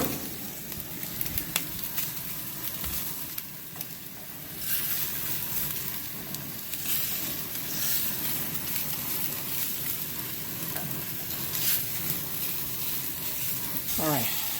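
A ribeye steak sears in butter on a BBQ setup, giving a continuous low, fairly quiet sizzle with faint crackles throughout. A few brief clicks and handling noises sit under it.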